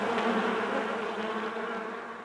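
A swarm of attacking bees buzzes loudly and continuously, a dense, close drone with wavering pitch that fades slightly toward the end.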